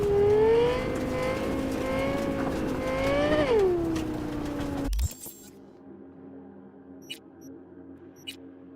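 A car's engine in Cyberpunk 2077 drones and revs loudly for about five seconds, its pitch rising and falling, then cuts off abruptly to near silence broken by a couple of faint clicks.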